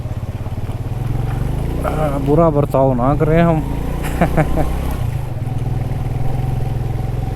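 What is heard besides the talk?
motorcycle riding on rough mountain road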